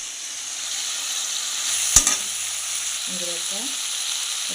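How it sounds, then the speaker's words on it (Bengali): Chicken pieces stir-fried in a pan, hissing steadily up close, broken by one sharp spatula scrape and clack, then quieter sizzling with faint utensil tones. "মাংসটা কিন্তু ভালো করে কষিয়ে নিতে হবে জাস্ট ভালো করে কষিয়ে নিতে হবে"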